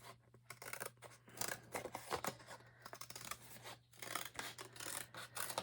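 Scissors cut a paper strip for a recycled hardcover book journal, a close, steady run of rasping snips and rustles with short pauses between cuts.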